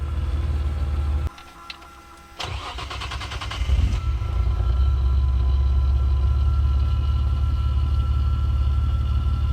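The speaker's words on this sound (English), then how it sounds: "Just the cold start of the engine." A car engine, an RB25 in a 1971 Nissan Skyline, cranks briefly on a cold start, catches and fires up, revving slightly before settling into a steady, loud idle close by.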